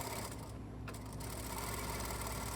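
A sewing machine runs steadily throughout while stitching a shirt collar. The whirring motor is close and continuous, with a brief quieter gap near the start.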